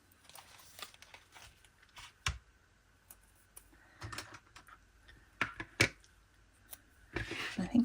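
Scissors snip paper for a junk journal in short, crisp, irregular cuts and crinkles, quiet and close with pauses between snips.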